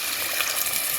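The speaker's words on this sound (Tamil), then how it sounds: "தண்ணியை ஊற்றிட வேண்டியதான்" Water pours into a hot pan of garlic, pepper and tamarind for rasam, a brief close rush of splashing liquid over a faint sizzle.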